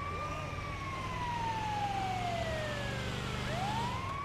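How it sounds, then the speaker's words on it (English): A police siren wails in the GTA 5 video game, its pitch sweeping down steadily and then jumping back up, loud and continuous over engine rumble, with no talking. "Respect this siren, man."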